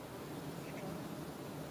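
Honeybees crawling on a hive frame during inspection give a soft, steady buzzing hum, close and continuous for the short stretch.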